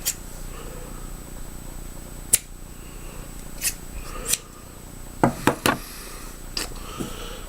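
A few sharp, crisp snips of scissors cutting, irregularly spaced over faint background rustling, close by.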